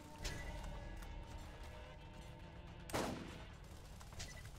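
Gunfire in Borderlands is fairly faint, with a few scattered shots and one louder crack partway through over a low, steady game background.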